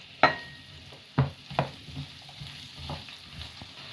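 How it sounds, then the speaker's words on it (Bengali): Two medium onions go into a pan during a chicken rogan roast, with sharp stir-scrape transients and soft sizzling frying underneath, repeated stirring strokes spaced through the moment, close and moderate in level. "এখন দিয়ে দিব পেঁয়াজ। এখানে নিয়েছি মিডিয়াম সাইজের 2টা পেঁয়াজ।"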